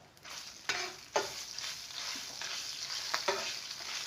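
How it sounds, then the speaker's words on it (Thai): Catfish curry with krachai, chilli and fish sauce being stir-fried in a pan, with a steady hiss of frying and a few sharp scraping clacks of the spatula against the pan. "แล้วก็ผัดนะคะเพื่อนๆ"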